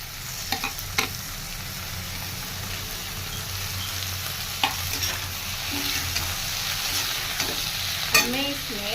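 Tomato and ginger fry with parwal and potato in a pan, giving a steady close sizzle broken by occasional scraping stirs and clinks of a spoon, with no talking.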